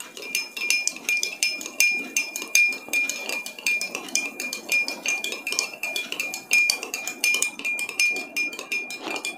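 A metal spoon stirs rice bran oil and water in a glass, giving steady, rapid ringing clinks against the glass with no voices.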